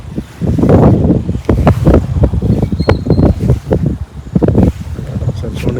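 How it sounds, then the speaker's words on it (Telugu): Strong wind beside the Godavari river buffets the microphone in loud, gusty rumbles that rise and fall throughout, with bursts of talk mixed in. "గాలి సౌండ్ మీకు వినబడచ్చు"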